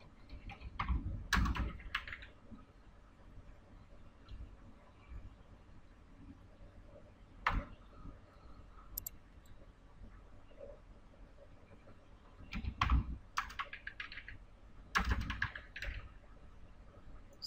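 A username and password being typed on a computer keyboard, with a few quiet clusters of key clicks scattered among long pauses, close and soft, with no voices.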